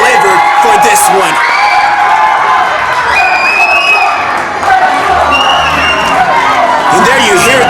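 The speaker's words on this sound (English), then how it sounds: "there you hear the crowd there appreciating all the wrestlers" A packed crowd at a Wrestle Club main-event wrestling show cheers, whoops and shouts loudly and continuously, a dense roar of voices filling the whole stretch with no break.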